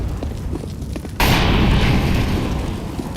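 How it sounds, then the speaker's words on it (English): A grenade explodes in the video game CS:GO with a sudden loud boom that follows a stretch of quieter game noise and then fades into a lingering roar. "I am throwing a grenade!"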